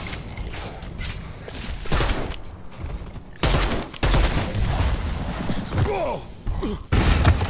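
Pistol gunfire in a zombie video game, a run of loud sharp shots in uneven bursts mixed with game effects and clanks, and a voice is heard briefly.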